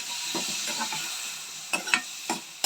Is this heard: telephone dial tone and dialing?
no